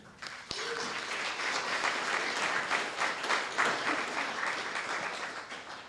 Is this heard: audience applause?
yes